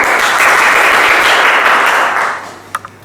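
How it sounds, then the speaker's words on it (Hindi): Loud, dense audience applause at a Hindi Diwas poetry recital, a full burst of clapping that holds steady and then fades out, with a couple of last claps after it. "अगर प्रस्तुति पसंद आई हो तो तालियां बजाइए"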